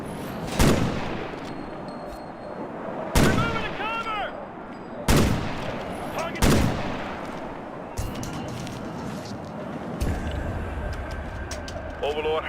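Sniper rifle shots in Ghost Recon Future Soldier ring out as five or six sharp, loud cracks spaced a couple of seconds apart, with echoing tails, faint chirps and a low rumble between them.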